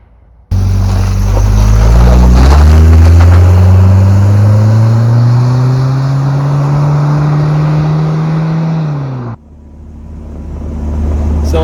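Supercharged Toyota 22RE engine in a 4Runner, loud and close, revving up and holding a climbing drone while driving for about nine seconds before cutting off abruptly, then rising again faintly.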